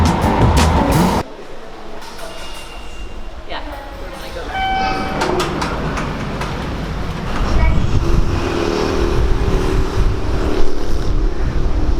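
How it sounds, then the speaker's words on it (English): A Japanese bullet train rushes past with a rising roar and rattling, mixed with station noise, brief electronic tones and a short burst of voices at the start. "That was the bullet train."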